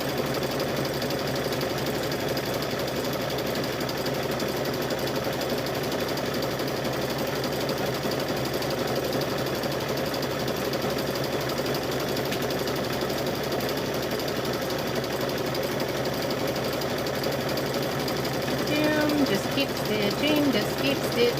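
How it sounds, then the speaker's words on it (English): A sewing machine stitches steadily around a fabric rope bowl, its fast motor whir and needle chatter running continuously and fairly close, with a voice speaking briefly near the end. "Just keep stitching, just keep stitching."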